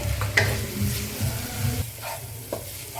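Spicy chicken bhuna masala sizzles loudly in a pan with tomato, turmeric and chilli powder while a spoon stirs it in steady scraping strokes, close and continuous.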